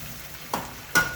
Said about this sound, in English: perfect time to add the coconut milk